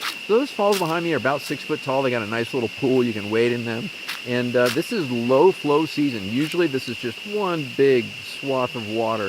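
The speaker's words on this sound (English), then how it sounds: "the noise you're hearing in the background is chicharra bugs" Steady high buzzing drone of chicharra bugs (cicadas) near a six-foot waterfall with a wading pool, holding constant behind someone talking close up throughout.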